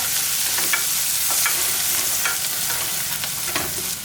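Small onions and spices fry in a pan for a jackfruit curry, a steady loud sizzle with scattered soft stirring scrapes throughout, no voices.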